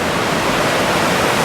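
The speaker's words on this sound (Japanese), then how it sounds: "少し波が立って" Sea waves rolling onto Zaimokuza beach in Kamakura the morning after Typhoon 19, heard as a steady, dense wash of surf with no voices.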